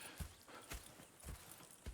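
Horse hooves clip-clopping in Red Dead Redemption II, four evenly spaced, soft, muffled steps at a slow walking pace with no talk.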